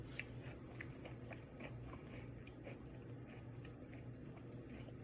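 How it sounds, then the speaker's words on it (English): Crunchy bites into Ben & Jerry's Topped Dirt Cake ice cream with a thick cookie crumb layer and chocolate layers, giving close, repeated crisp crunching and chewing over a steady low background hum. "That is crunchy. It's a heavy, it's a really thick cookie crumb layer."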